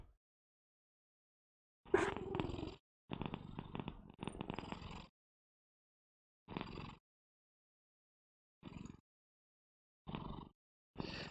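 A cat purrs right up against a microphone in short separate bursts with silent gaps between them, quiet and close, no talking.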